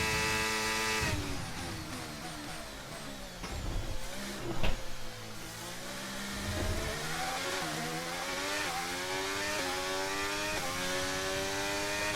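F1 car engine on a qualifying lap in the F1 23 racing game, on worn tyres, a steady high-pitched whine rising and dropping through gear changes with a brief louder burst midway.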